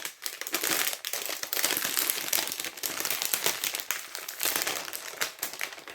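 The packaging of a string art kit is opened up close, giving continuous crinkling and crumpling of plastic and paper throughout with no voices.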